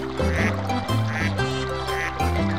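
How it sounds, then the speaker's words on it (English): A duck quacking on water, a run of several loud nasal quacks in quick succession, close and clear. "Shoo, duck!"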